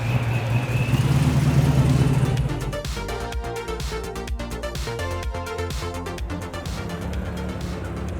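A pro-charged car engine runs loudly and steadily, droning and swelling at first before settling into a continuous rumble with faint rattling overtones, heard up close.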